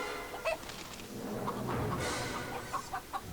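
Minecraft chickens cluck in short, clipped bursts in a few scattered groups. They sit amid ongoing game sounds and background noise.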